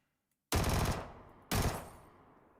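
Two loud gunshot bursts from a weapon in the Fallout 4 video game, the first a sustained rapid volley and the second a shorter blast about a second later, each ringing out with a decaying tail.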